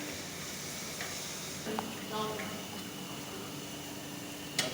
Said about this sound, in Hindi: तकरीबन हमने 5 से 6 मिनट तक भून लिया चिकन को।